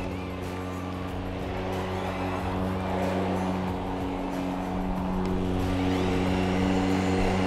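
An EGO electric self-propelled lawn mower runs steadily nearby, giving a continuous low motor hum with stable tonal bands that swells slightly toward the end, with no voices.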